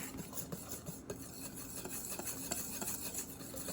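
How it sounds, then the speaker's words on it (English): Salt and baking powder being whisked together in a dry bowl for sugar cookies: a soft, continuous scraping and rubbing of whisk wires against the bowl, faint and close, with no voices. "it says you can whisk them up because we want them to get nice and incorporated"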